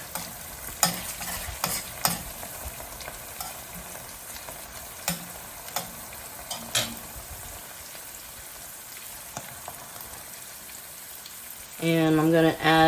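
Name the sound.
butter melting in pan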